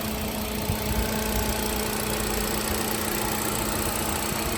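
A 2016 Hyundai Accent automatic idles with its engine running, a steady close mechanical drone and hum with faint rattling vibration throughout, unbroken and even in level, no voices.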